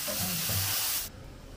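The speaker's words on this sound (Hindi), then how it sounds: "कम से कम 15 मिनट हो गया ना उबल रहा है ये" Vegetables boiling in a clay pot give off a loud steady hiss and bubbling rush that cuts off sharply about a second in, leaving a quiet low murmur.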